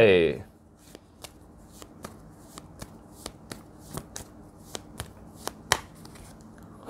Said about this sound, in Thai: เดี๋ยวเราจะมาเริ่มเปิดไพ่ไปด้วยกันเลยนะครับ